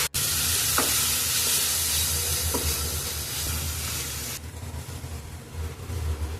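Grated paneer sautéing in a pan, giving a steady loud sizzle and frying hiss with a few soft stirring scrapes, no voices over it.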